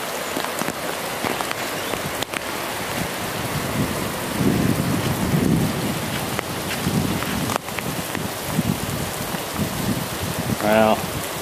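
Steady rain patters on surfaces throughout in Portobello, Panama, with a few low rumbles of thunder; no clear voices are heard.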